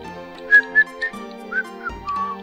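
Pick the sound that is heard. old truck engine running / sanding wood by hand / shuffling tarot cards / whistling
whistling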